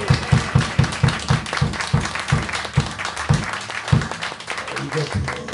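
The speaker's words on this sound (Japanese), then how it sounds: "次にこの会場に来てくれてるお客様に盛大な拍手を" An audience at a live rock show by a tribute band claps in a large venue, with spaced, heavy low thumps pulsing through crowd noise and a voice talking over the sound.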